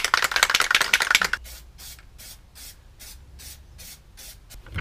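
An aerosol can sprays paint inside a cardboard box used as a spray booth, opening with a long loud hiss and then breaking into a run of short, even bursts.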